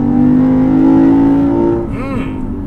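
A Lexus IS500 sports sedan's V8 engine holds a steady, loud drone with strong harmonics, then the note drops and fades as the car moves off.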